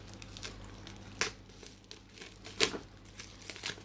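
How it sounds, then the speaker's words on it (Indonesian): Packaging crinkles and tears while a parcel from Bardi holding an IP camera is unboxed, with soft rustling throughout and two sharper crackles standing out, no talk. "Sekarang gue mau unboxing paket dari Bardi."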